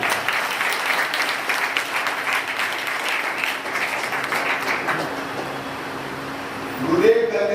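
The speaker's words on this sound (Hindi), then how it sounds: "मैं विशेष कर आप सबों से अनुरोध करूंगा इस तीन बहनों के लिए एक बार जोरदार ताली।" Audience applause at a Gayatri Shakti Pith gathering, dense clapping sustained for about five seconds, then thinning out, with a voice rising at the end.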